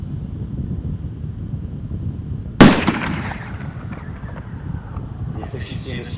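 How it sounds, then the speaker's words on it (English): A single NTW-20 anti-materiel rifle shot firing 20mm ammunition on an outdoor shooting range: one sharp, loud blast that rings out and decays over a couple of seconds, set against steady wind noise. "It's the NTW-20 anti-materiel rifle using 20mm ammunition."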